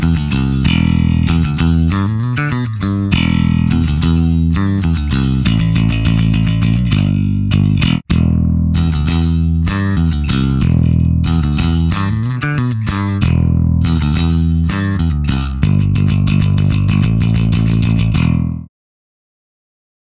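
A Sterling Stingray-style electric bass plays a steady run of plucked, sustained clean tones with a slightly effected sound, ending abruptly in silence.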